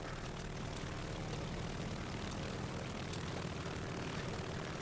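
Steady propeller engine drone of a Savoia-Marchetti aircraft in War Thunder, a continuous even roar heard from the cockpit with no talk over it.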